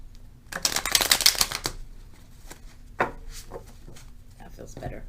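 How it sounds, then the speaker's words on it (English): Tarot cards shuffled by hand in a burst of rapid riffling and slapping, followed by a few softer, scattered taps and shuffles close up, with no talking. "Let's do one more shuffle."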